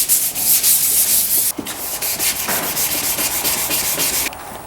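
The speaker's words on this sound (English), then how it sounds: "I'm sanding the all the gloss off of the paint, getting it down to where it's just a dull finish." Sandpaper rubs back and forth across painted Jeep Liberty bumper, scuffing off the gloss in loud, close, rhythmic strokes with a brief pause partway through.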